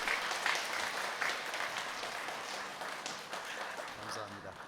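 A church congregation at a Sunday worship service breaks into sustained applause, a dense wash of many hands clapping that fades slightly over several seconds, heard from within the sanctuary with faint voices underneath.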